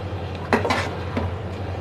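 A fork clinks against a plate while cooked beef trotters are checked in a kitchen, two or three light close metallic taps over a steady background hum, with no talking.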